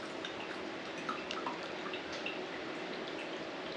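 Broth is poured into jars in a home kitchen, a steady close liquid trickle with light splashes and faint clinks throughout.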